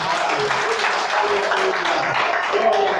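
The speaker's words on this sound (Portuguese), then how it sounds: "Pode aplaudir." A church congregation applauds during a Portuguese-language service, steady dense clapping that fills the whole stretch at a fairly loud, even level.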